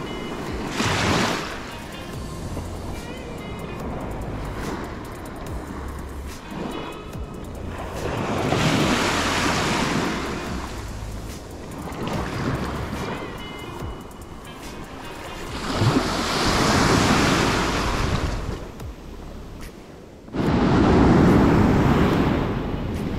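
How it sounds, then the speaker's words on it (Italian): Small sea waves wash onto a sandy beach in repeated surges, each swell rising and receding every few seconds, close by and moderately loud with no one talking. "ogni tanto arriva qualche ondina questo qua è il mare"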